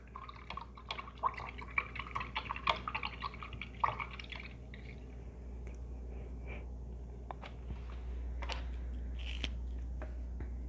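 Paintbrush being rinsed in a water cup during an acrylic painting session, giving soft dripping and sloshing splashes with small taps, close and quiet, no talking.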